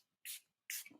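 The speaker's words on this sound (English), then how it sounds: "It is the Milani Make It Last setting spray" Two quick bursts of Milani Make It Last makeup setting spray hiss close up, each a sharp short spritz separated by a brief pause in a quiet room.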